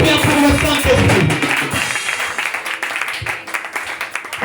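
A church congregation claps and cheers in praise of the Holy Spirit, a dense run of hand claps that ebbs and swells, with voices mixed into the noise.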